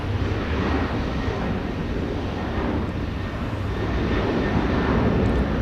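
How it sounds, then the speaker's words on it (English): An Emirates airliner on flight 211 from Dubai arrives, a steady broad jet engine rumble and roar holding loud and even, slightly rising near the end. "Emirates Flight 211 coming in from Dubai."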